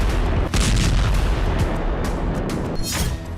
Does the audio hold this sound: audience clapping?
no